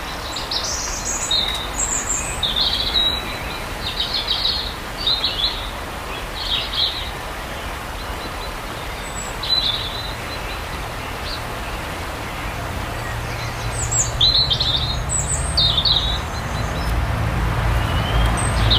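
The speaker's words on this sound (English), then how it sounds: "the birds are singing the dusk chorus" Birds sing the dusk chorus by a river, with repeated bright chirps and whistled phrases scattered across the clip over a soft background rumble of distant road traffic.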